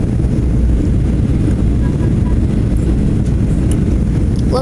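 American Airlines Boeing 737-800 cabin noise during descent toward the runway, a loud, steady low rumble and airflow roar filling the cabin without break, with no one speaking.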